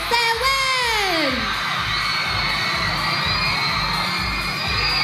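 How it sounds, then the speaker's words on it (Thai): Fans at a red-carpet event for visiting Korean DJs scream and cheer, opening with a loud rising-then-falling shriek and settling into sustained high-pitched crowd screaming and whooping. "ขอเสียงกรี๊ดดังๆ"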